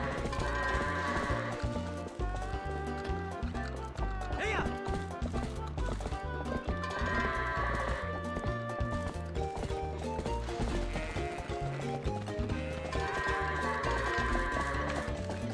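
Goats bleat and a horse's hooves clop during goat herding in the video game Twilight Princess, with repeated bleats and rhythmic hoof clatter over a busy game music and effects bed, with someone talking over it.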